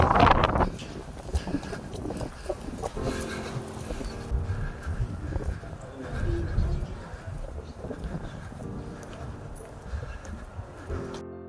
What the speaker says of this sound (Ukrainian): Сьогодні дуже вітряно.